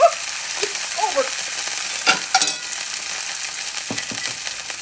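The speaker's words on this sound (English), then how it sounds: "She's frying." A sweet and savory breakfast chimichanga fries in a pan with a close, crackling sizzle, broken by sharper pops and spatters over a constant hiss.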